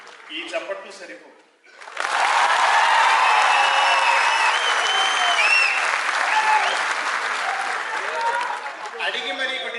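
An audience at a Telugu mimicry performance breaks into loud, sustained applause that swells quickly and holds steady. A voice speaks briefly before the clapping starts and again as it fades.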